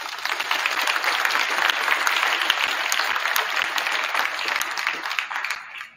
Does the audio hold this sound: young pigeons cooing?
no